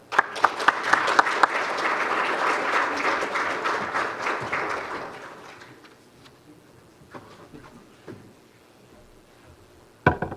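Audience applause welcoming Dr. Raul Katz as he comes up to present at a policy talk, a dense round of clapping that swells for about five seconds and then thins out into a few scattered claps and room noise.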